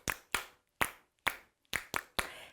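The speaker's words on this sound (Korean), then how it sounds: "박수 소리" Small children clap hands in a church infant class, seven separate sharp claps with short uneven pauses between them, close and fairly quiet with no talk over them.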